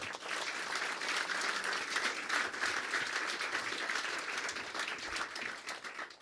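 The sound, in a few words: audience applause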